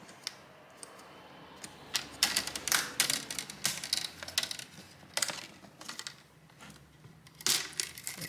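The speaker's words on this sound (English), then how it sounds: "I should be able to grab the trim from the inside and just pull it" Brittle plastic screen trim being pried and pulled off an Asus E410M laptop, a quick series of sharp clicks, snaps and crackles in irregular bursts, close and fairly quiet.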